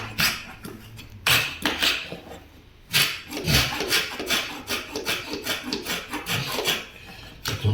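A Linbide scraper blade scrapes the corner of a timber floor in repeated, close, rasping strokes of uneven rhythm, with short pauses between bursts.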